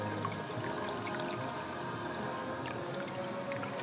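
Diesel fuel draining from the fuel filter bowl of a Ford 7.3L Powerstroke, a steady close trickling pour that runs unbroken the whole time.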